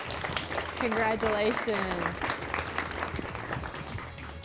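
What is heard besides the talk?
round of applause for quiz bowl runner-up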